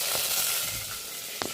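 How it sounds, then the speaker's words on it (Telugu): Spices tempering in a little hot oil for an aloo egg curry give a soft, steady sizzle with faint crackles, close and low in level, and no one talking. "దూర పెట్టుకొని కొంచెం నూనె వేసుకొని దీంట్లో తిరగబాతుకు వేసుకుందాం"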